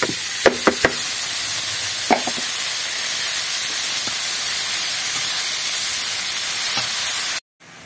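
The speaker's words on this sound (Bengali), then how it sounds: "এবার দিয়ে দেবো শাকগুলো, কুচিয়ে রাখা শাকগুলো দিয়ে দিচ্ছি।" Chopped leafy greens hit hot oil in a frying pan with a loud, steady sizzle and hiss, a few sharp crackles and clinks near the start, ending abruptly in silence.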